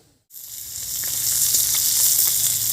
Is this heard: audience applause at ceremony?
no